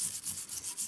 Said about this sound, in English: Maybe give this a little bit of a wire brush here.